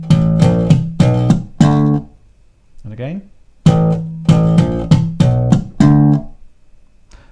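A slap bass riff is played twice: a short run of punchy slapped and popped notes, then a brief spoken interjection, then the same bar again, loud and close.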